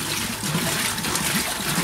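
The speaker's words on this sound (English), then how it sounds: "Now Dunes Water Wheel goes round and round and round in a circle." A water wheel at a resort on Lamai Beach, Koh Samui, Thailand, turns steadily with continuous splashing and trickling water, close and even in level.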